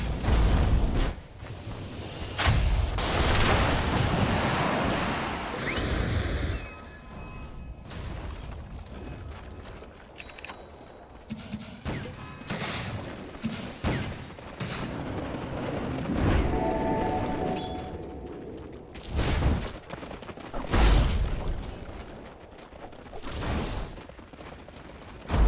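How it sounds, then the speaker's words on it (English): A Dota 2 match fills with booming explosions and clattering mechanical impacts as a tower comes under attack, loud bursts recurring irregularly over about twenty-five seconds amid layered game effects. "Explosions! Explosions! Radiant's top tower is under attack."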